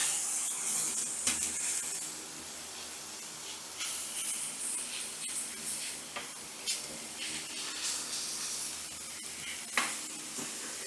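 Shaved cheesesteak meat frying in a hot pan, a steady close sizzle broken by scrapes and taps as a utensil stirs and spreads it.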